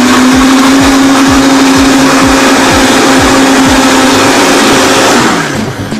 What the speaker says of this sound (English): turn your blender on